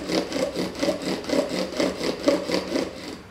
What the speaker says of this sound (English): So I'm using nice full strokes, moderate pressure, and I can already feel it starting to kick into the board now.